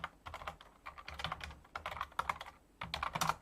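Rapid bursts of keystrokes on a computer keyboard, clicking in short irregular runs with brief pauses, close and fairly quiet with no one speaking.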